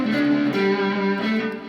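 Electric guitar played through an Exotic Effects BB Preamp overdrive pedal gives a thick, sustained, distorted lead line of a few held notes, loud and close with no talking.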